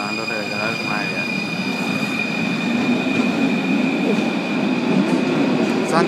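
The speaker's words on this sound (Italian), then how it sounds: "stiamo andando a prendere la metropolitana numero 1" A Paris metro line 1 train running loud and close, a continuous rumble with a high steady whine and sharp wheel squeal throughout, with voices faintly underneath.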